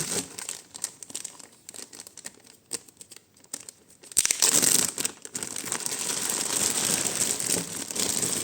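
A plastic parcel bag holding vintage jewelry crinkles and rustles in bursts, quieter at first, then louder and denser as the bag is handled continuously.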